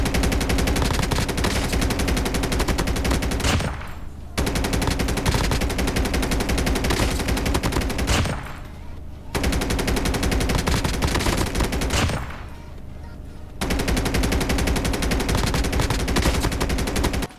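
Sustained rapid automatic gunfire from a mobile shooting game, loud and continuous, broken into three long bursts with brief pauses between them around the four, eight and twelve second marks.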